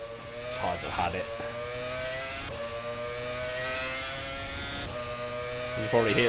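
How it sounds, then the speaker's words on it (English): A 1996 Formula One car in the rFactor 2 racing game runs on worn, flat-spotted tyres, its engine droning steadily at high revs with a rhythmic thumping from the tyres and bursts of speech over it. "You can probably hear the flat spots coming through the microphone."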